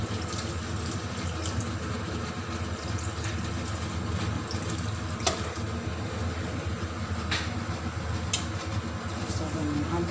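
About 500 ml of water poured into a pot of chicken biryani with blended ginger, a steady low splashing rush running unbroken for ten seconds at moderate level.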